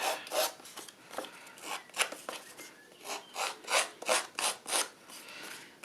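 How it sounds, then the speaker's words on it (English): Edges of a paper cabinet-card photograph being scuffed to look distressed, a faint series of quick rasping rubs that quickens into an even rhythm near the end. "Now, I'm going to scuff the edges of my photograph so it looks a little bit more distressed."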